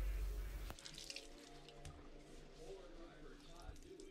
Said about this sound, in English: we're going to run under a tap, and we're going to soak it, get it damp, wring it out completely